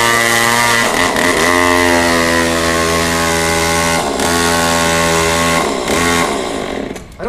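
An Echo chainsaw running loud and close, its buzzing engine note holding steady with slight pitch changes, then tapering off at the end.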